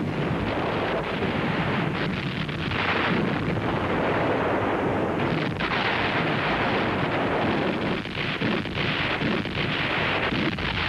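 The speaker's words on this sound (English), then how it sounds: "artillery barrage, the panzers roll across the Russian border on June 22, 1941" A World War II artillery barrage on the Russian border at the start of Operation Barbarossa, June 22, 1941: a dense, continuous roar of heavy guns with rumbling booms and windy noise throughout, and no voices.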